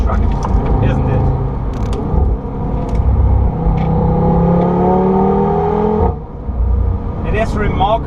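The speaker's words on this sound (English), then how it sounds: "It is remarkable how good the car handles on these kind of roads." A 476hp APR Stage 1 tuned Audi TT RS driven fast on a country road, its engine droning loud and close with rising pitch sweeps under acceleration, a brief gear-change dip, and steady road rumble throughout.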